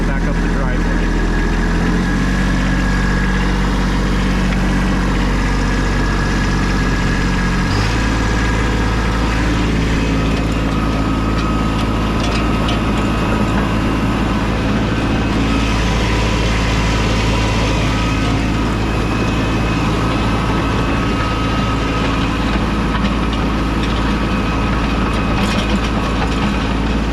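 Tractor or heavy vehicle engine labouring loudly uphill on a flood-damaged gravel driveway with differential lock, pushing gravel; steady low drone that shifts pitch partway through, with a voice talking over it.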